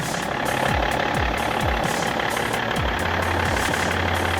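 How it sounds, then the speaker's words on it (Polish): A 2005 BMW 5 Series E61 with a 3.0 six-cylinder diesel engine idling, a steady low, even rumble with a faint knocking texture, heard close and alone with no talk. "Te 6 cylindrów pracuje."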